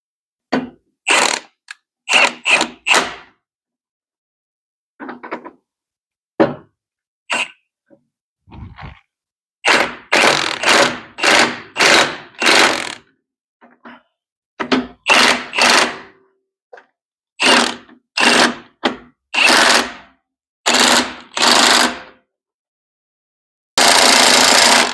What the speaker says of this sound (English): Let's put these U-bolts on.